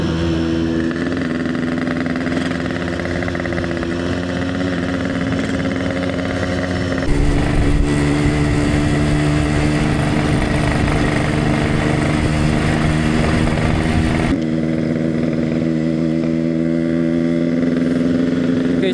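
A Yamaha RX King two-stroke motorcycle engine and exhaust roar continuously and loudly while riding, with changing pitch as the throttle shifts and wind rush in the middle stretch.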